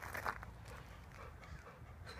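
A dog pants steadily and close by in quick, soft breaths, with faint movement noises around it.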